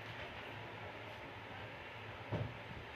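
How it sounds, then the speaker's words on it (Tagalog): A train rolls along an elevated rail line above a street in Metro Manila, a steady low rumble with a brief louder thump near the end, heard from below amid city noise. "Yan po yung release ng tren dyan sa taas."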